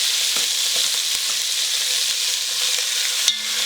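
Beef short ribs sear in a hot pan in a steady, loud, dense sizzle that barely changes, with a single sharp knock near the end before the hiss thins.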